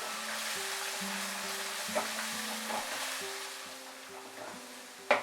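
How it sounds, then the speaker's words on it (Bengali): Ginger and garlic paste fries in a pan, giving a soft, steady sizzle with a few faint stirring scrapes and a sharp knock at the very end; close but fairly quiet, and no one speaks. "আদা রসুনটা তো মাঝারি আছে আরো 2 মিনিট মতো আমি ফ্রাই করে নেব"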